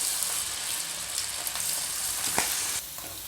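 Cauliflower florets deep-frying in hot oil in a kadai for Gobi Manchurian give a loud, steady close-up sizzle, dotted with sharp crackles and pops, with no voices.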